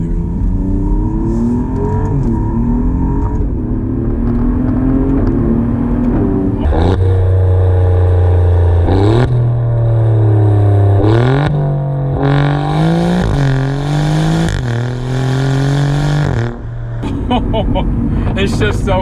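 An Alfa Romeo Giulia Quadrifoglio in race mode accelerating hard, the engine revving loudly and climbing through several gear changes with brief dips between shifts.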